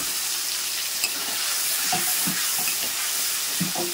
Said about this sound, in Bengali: আর এবার দিয়ে দেবো আমি যে মশলাটা করে নিয়েছি, আদা জিরে আর লঙ্কা বাটাটা।